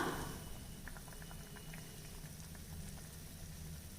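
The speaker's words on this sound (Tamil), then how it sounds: "குழம்பு நல்லா கொதி பிடிச்சி வர ஆரம்பிச்சிருக்கு" Egg curry gravy simmering in a pot, a soft continuous bubbling with small popping blips, quiet and close, no talking.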